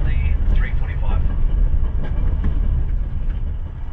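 The Spirit of the Outback passenger train rolls from Brisbane toward Longreach with a loud, continuous low rumble and rattle. A person speaks over the noise throughout.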